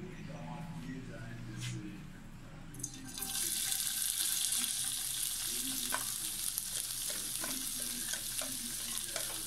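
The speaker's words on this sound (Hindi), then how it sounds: "एक पैन में मैंने 2 से 3 टेबल स्पून ऑयल लिया है, अब इसमें मैं शामिल करूंगी" Pieces of chicken drop into a pan of hot oil. After a quieter start, a loud, bright sizzle bursts in at about three seconds and holds steadily, with small pops and scrapes scattered through it.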